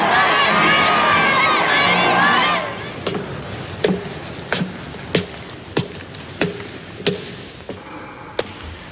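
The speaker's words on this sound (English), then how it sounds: "German troops crossed the Austrian border to be welcomed by ecstatic crowds" Ecstatic crowds in 1938 Austria cheer German troops entering the country, a loud roar of many voices with shrill shouts for the first few seconds, then a series of sharp, evenly spaced claps or taps over quieter background.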